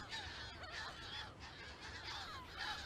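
A colony of Audouin's gulls at a nesting site gives repeated harsh, honking calls, overlapping and fairly distant, in a steady chorus with no one talking.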